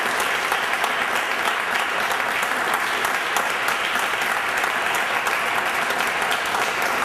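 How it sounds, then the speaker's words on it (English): An audience applauds a couple at an event with Dr. James Frank, first Black president of the NCAA, producing a dense, continuous, even roar of clapping at fairly loud level with no voices standing out. "I just give them a nice round of applause"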